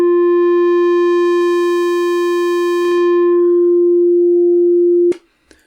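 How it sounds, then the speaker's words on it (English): A Sonicware Liven XFM FM synthesizer holds a steady, loud tone that starts bright and buzzy, square-like and rich in overtones, then smooths toward a pure sine before cutting off abruptly with a click. "if we go backwards we're going to create square-like waveforms"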